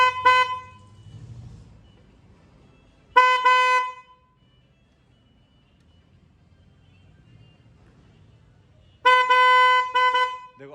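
A vehicle horn fitted with a 4-pin horn relay sounds in two short loud honks separated by quiet gaps, with a faint low hum of activity between them.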